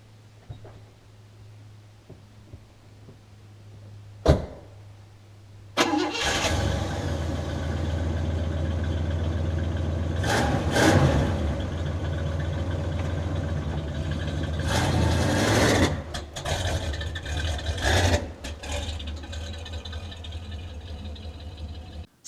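Car engine starting up after a sharp knock, catching with a burst and then running at a loud, steady idle close by, with several brief revs and rattles rising over the drone.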